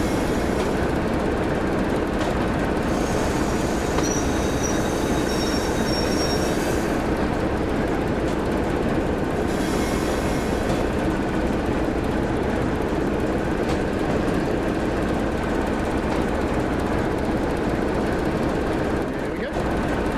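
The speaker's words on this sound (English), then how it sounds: "I've only been using the independent brake while we're shunting, which is a normal practice." Train shunting at Woodhead in a railway simulator, a steady loud rumble of rolling stock with rail noise and brief higher squeals, continuous throughout.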